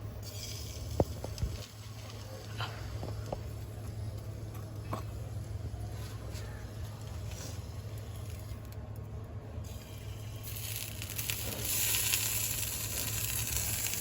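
Steady sizzling and crackling of batter fritters frying in hot oil, continuous and close, with a few sharp pops and a brief clatter near the start.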